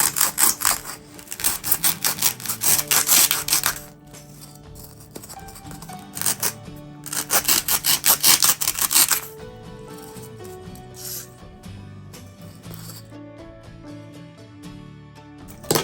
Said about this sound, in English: we're gonna take one of these balls and we're gonna cut the ends off